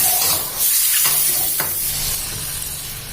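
Straw mushrooms and shrimp stir-fried in oyster sauce, a steady loud sizzle with scraping stirs of a spatula in the pan, close up and without speech.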